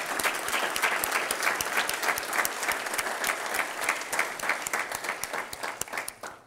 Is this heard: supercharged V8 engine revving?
no